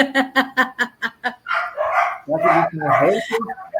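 Several dogs bark in a quick rhythmic volley of about eight sharp barks, then a person starts talking as the barking gives way to speech.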